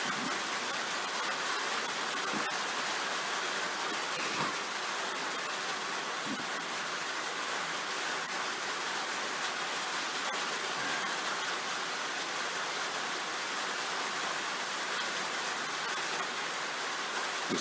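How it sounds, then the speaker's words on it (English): Rain falls steadily in a soft, even hiss with no breaks, faint and continuous, with no voices over it. "Listen to the rain."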